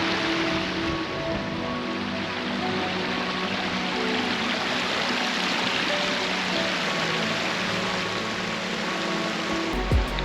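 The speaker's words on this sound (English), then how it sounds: "There's loads of these little streams that are gushing down off the fell side or down the pass" Small mountain streams gushing down a Lake District fell side after rain, a continuous close rushing and splashing of water that stays steady throughout.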